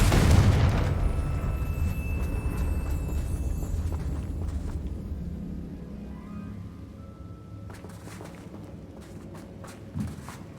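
A Confringo spell explosion in Hogwarts Legacy lands as a loud opening blast that decays into a long, fading rumble, followed later by light footsteps and a small thump.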